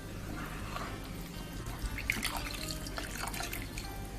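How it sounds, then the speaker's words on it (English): Water is added little by little to dosa batter in a bowl, making soft, uneven trickling and dripping sounds over a low background hum for a few seconds, with no talk. "Next we are going to add water. Don't add the water all together. Add little bit of water at times"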